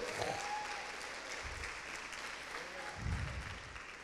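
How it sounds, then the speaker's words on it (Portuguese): A church congregation applauds in praise, a steady wash of clapping from a large room with a few louder swells and a voice faintly audible underneath. "Aplauda o Senhor."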